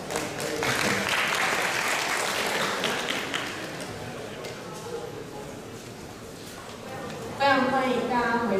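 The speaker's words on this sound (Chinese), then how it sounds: "我们掌声欢迎。" An audience at an earthquake research seminar applauds steadily for several seconds, with the clapping under a speaker's amplified voice in the hall, and the applause fades as talk continues.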